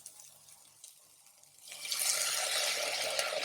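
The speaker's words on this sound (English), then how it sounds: "So I'm just going to add a touch of water." Water hits a hot pan of browned onions halfway through, breaking from quiet into a loud, steady sizzling hiss that holds to the end.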